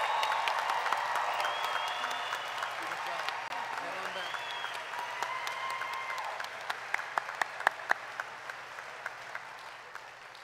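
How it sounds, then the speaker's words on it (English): Applause at the 2021 Harrison School for the Arts graduation ceremony after the tassel turn, a steady crowd clapping with a few cheers for about ten seconds, sharper individual claps standing out as it thins near the end. "Big round of applause for that class of 2021."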